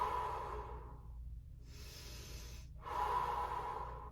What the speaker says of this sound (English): 3 big breaths here.